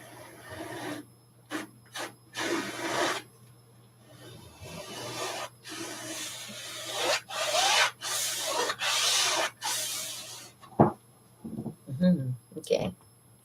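Red paint scraped across a surface makes repeated rasping strokes, each a second or so long, broken by short pauses, with a few louder scuffs and knocks toward the end.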